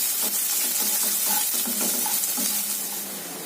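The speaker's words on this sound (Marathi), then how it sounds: "आता आपण मिरच्या घालूया आणि कांदा पण घालूया आणि हे पण चांगलं नरम होईपर्यंत परतून घेऊया." Green chillies and onion sautéing in a pan for a traditional Maharashtrian val bean pod vegetable, a steady close sizzle with soft stirring scrapes throughout, no voices.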